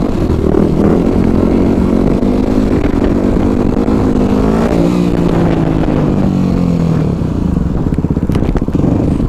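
A supermotard motorcycle engine revs loud and close, its pitch rising and falling in sustained surges, with some clattering and scraping mixed in and no voices.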